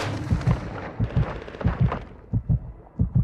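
Rapid paired bursts of Warzone gunfire from a 9mm ISO weapon, heavy low thumps repeating in a steady rhythm of about eight shots, loud and close with no talk.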